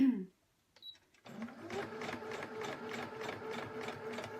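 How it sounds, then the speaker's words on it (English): A sewing machine stitches along a zipper tape in a quick, steady mechanical chatter that starts after a brief quiet pause and runs on evenly, close and fairly loud. "I'm going to sew this other side"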